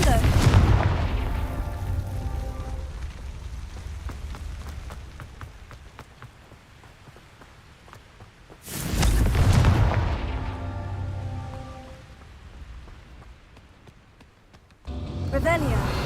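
Confringo fire spells burst in the video game Hogwarts Legacy: three heavy booming explosions land several seconds apart, each fading into a long rumbling tail, with a short spoken exclamation in the game.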